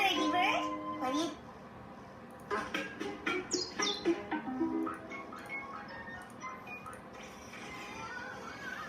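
A pet bird chirps in short high tweets indoors, mixed with a person talking close by in a quiet room.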